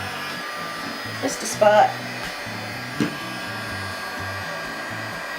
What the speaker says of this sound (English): take a heat gun to them to dry it.